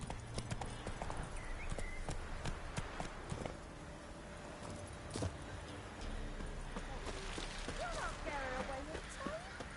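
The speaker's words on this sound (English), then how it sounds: "Run, Roach." A horse in The Witcher: Wild Hunt runs at speed, hooves clip-clopping in a quick, steady rhythm under game music and ambient noise, while a voice speaks in the scene.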